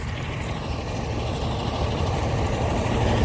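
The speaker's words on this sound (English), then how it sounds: "Now I have to stand here so that this truck can pass." A truck rumbles past on a narrow Kenyan road with no walking path, a loud, steady low engine roar that stays close and continuous throughout.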